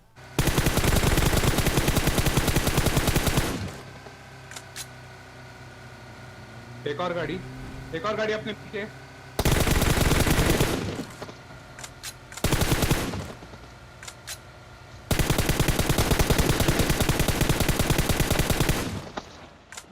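Bursts of DP-28 machine gun fire in PUBG Mobile, loud sustained volleys broken by quieter gaps, with someone talking over the game between bursts.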